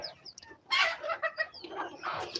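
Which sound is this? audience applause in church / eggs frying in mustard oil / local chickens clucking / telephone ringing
local chickens clucking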